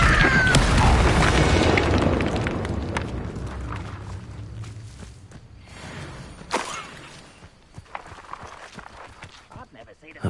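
A fiery spell blast from a Harry Potter video game erupts as a loud, rumbling boom that fades over several seconds, followed by scattered crackles and pops.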